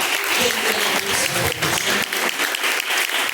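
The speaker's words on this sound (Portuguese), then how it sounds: "Palmas, louva." Worshippers in a church service clap together in praise, a loud, continuous roar of many hands throughout, with faint voices underneath.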